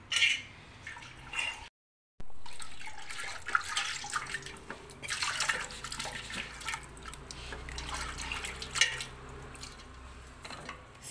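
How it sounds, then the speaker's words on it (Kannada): Water poured into the stone drum of a 3-litre Vijayalakshmi tilting wet grinder as it is washed out, with a close, irregular splashing and sloshing, a brief gap, then continued swishing and dripping. "ಇದ್ರೊಳಗಡೆ ನೀರು ಹಾಕ್ಬಿಡಿ, ಯಾವುದೇ ಕಾರಣಕ್ಕೂ ಏನಿದ್ರು ಇಷ್ಟರಲ್ಲೇ ವಾಶ್ ಮಾಡ್ಕೊಬೇಕು"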